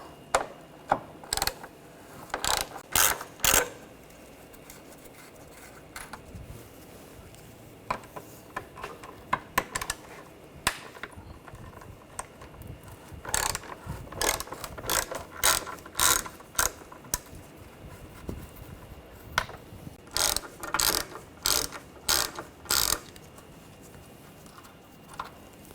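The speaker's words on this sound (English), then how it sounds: "Using a T30 socket, take these screws out." A ratchet turning a T30 socket backs out screws near the bumper cover of a 2013-2019 Ford Escape 2.0L, with quick bursts of close, sharp clicking that pause and resume over steady low shop noise.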